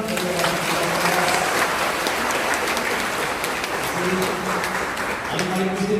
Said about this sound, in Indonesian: berikan tepuk tangan juga.